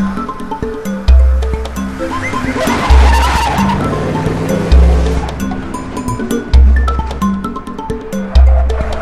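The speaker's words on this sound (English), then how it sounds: "The tires on my car, they're going to roll over this and nothing will happen." A car drives along with its tyres rolling, a steady roadside rumble broken by heavy low thumps that repeat about every two seconds, loud and close, with a busy, noisy wash over the top and no talk.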